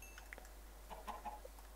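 Chickens clucking in Minecraft, a few short soft clucks scattered over a quiet background, faint and fairly close, with no talk.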